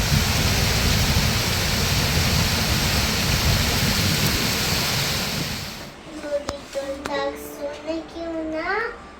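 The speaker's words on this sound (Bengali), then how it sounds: "এখন তুমি বৃষ্টি উপভোগ করো" Steady heavy rain hisses for several seconds, then thins out as a voice chatters intermittently over the softer patter.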